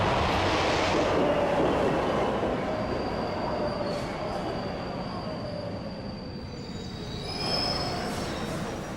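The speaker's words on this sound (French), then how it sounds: "Patricia Massari arrive à la station de métro Fulton Street au centre de Manhattan" A subway train rolls into Fulton Street station in Manhattan with loud, high-pitched wheel squeals and a steady metallic rumble that fades slightly before rising again.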